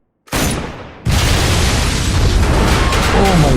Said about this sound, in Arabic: انفجار كبير دمر المبنى كله